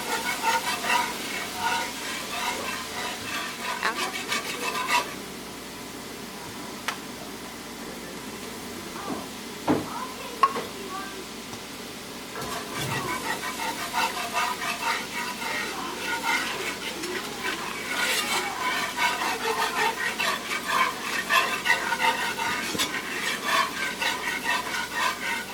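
Flour being stirred into hot oil for a seafood gumbo roux, a steady scraping stir over soft sizzling in the pot that pauses midway with a few clinks before resuming, close and continuous.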